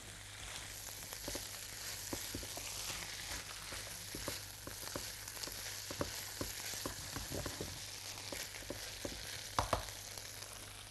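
Alexandrian sausage sautés with onions in a pan, giving a faint, continuous sizzle broken by scattered clicks and scrapes of stirring.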